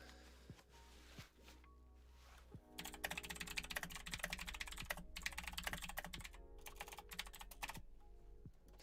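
Keys clatter on a computer keyboard in fast, uneven bursts of clicks after a quiet start, close and fairly soft.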